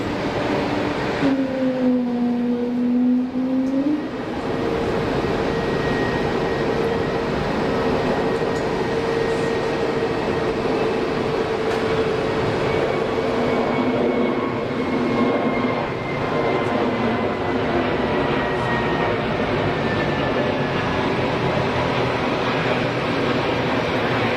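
A jet airliner takes off at Geneva Airport: a long, steady roar with a rising then falling whine, heard from a distance and building slowly over many seconds.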